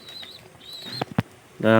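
Lakkha pigeons flap their wings in a few sharp bursts while feeding at home, with a brief loud flurry at the end and faint chirps before it.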